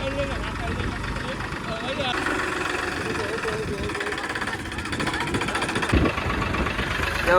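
A tractor engine runs steadily with a low rumbling idle and knocking throb, continuous throughout, with voices faintly underneath.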